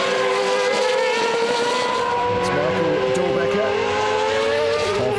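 A race car at Portimao accelerates away, its high engine whine rising steadily over crowd noise and the continuous voice of a commentator.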